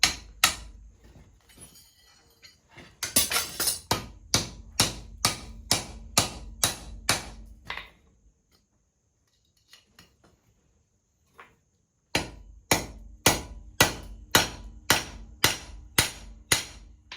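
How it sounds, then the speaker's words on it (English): Hammer blows riveting forge tong reins together, sharp ringing metallic strikes in a steady rhythm, pausing into near silence before another even run of close, loud hits. "So we'll rivet these together and size them"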